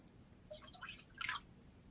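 A small splash of holy water poured into a bowl for a spiritual cleansing bath, heard as a few faint, brief drips and trickles spread over two seconds, the last one slightly fuller.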